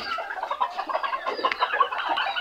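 Cochin and frizzle bantam chickens cluck busily outdoors, several birds making overlapping short murmuring clucks at close range, with no one talking.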